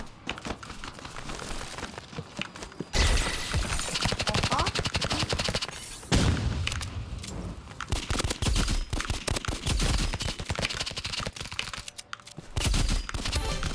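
Rapid pistol fire in a shooter video game, dense crackling shots in a near-continuous loud burst for most of the stretch, broken by a couple of short gaps.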